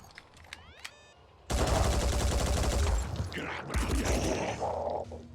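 Gunfire in the video game Phoenix Point: after a few faint clicks, a sustained loud burst of rapid automatic shots erupts and continues with mechanical rattles and impacts for several seconds.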